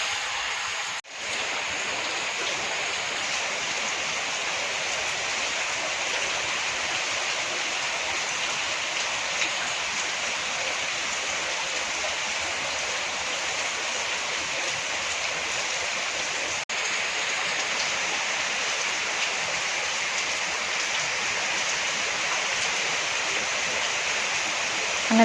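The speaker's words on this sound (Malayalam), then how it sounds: "അപ്പോൾ നമുക്ക് കുറച്ച് നേരം മഴ കാണാം." Steady rain falls outside in an even, continuous hiss that holds throughout at moderate loudness, with no voices over it.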